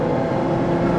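A steady, deep V12 engine drone from a Ferrari LaFerrari fills the whole moment, loud and unbroken, with no talking.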